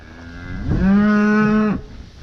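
A single long, loud moo from a cow in a herd being moved after a corn harvest, rising and holding steady for about a second before cutting off, with no talking.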